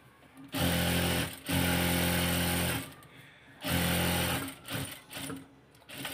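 A sewing machine hums in close, even bursts while stitching a kameez along chalk-marked lines, running in several stretches of a second or more with short pauses and fabric shuffling between them.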